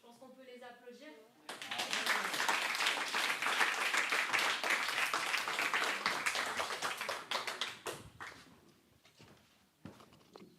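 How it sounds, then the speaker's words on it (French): Audience applause at a sociology talk, a burst of dense clapping that rises suddenly, holds loud for several seconds, then thins out into scattered claps near the end, with a voice speaking before it begins. "Je pense qu'on peut les applaudir."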